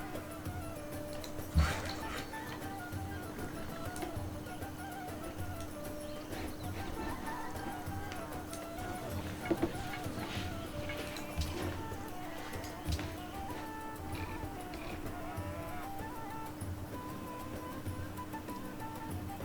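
Horses in the strategy game Civilization V, with galloping clip-clop hooves and an occasional whinny under a steady game soundscape, plus a couple of sharp louder hits.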